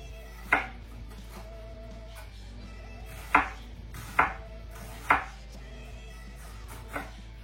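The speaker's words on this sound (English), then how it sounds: "Trying to cut everything roughly the same size and have the same amounts of it all." A knife chopping onion and mixed vegetables on a cutting board, five or six sharp, separate thuds spaced irregularly, close and clear over a quiet background hum.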